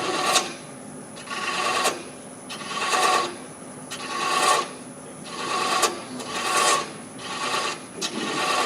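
A thread chaser scrapes a spinning wooden workpiece on a lathe, making a steady run of rhythmic rasping strokes about once a second over a constant motor whine, close and alone.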